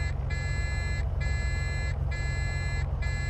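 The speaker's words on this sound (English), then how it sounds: "Oh, there's the stall alarm." Stall warning in a flight simulator game's Bonanza aircraft, a loud electronic tone pulsing in long on-off bursts about once per second over a steady low engine drone.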